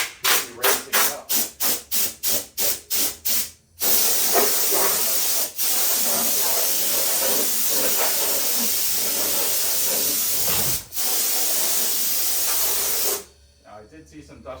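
A spray gun blows air over a car hood in a garage before a single-stage paint job, opening with a string of short rhythmic bursts, then a loud sustained hiss broken by brief pauses, ending in quiet.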